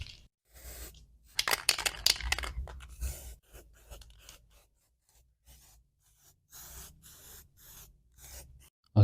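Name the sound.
spray painting second coat of primer on engine mounts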